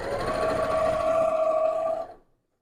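A home sewing machine stitches around a quilt corner, giving a steady, close, moderately loud motor whir with a sustained tone for about two seconds before it stops abruptly.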